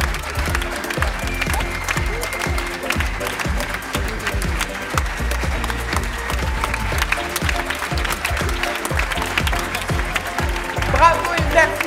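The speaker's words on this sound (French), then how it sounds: "On les applaudit bien fort, s'il vous plaît!" Loud, sustained applause fills a theatre after an apprentice stage performance, with a crowd clapping continuously and cheering faintly, while an announcer's voice carries over the top.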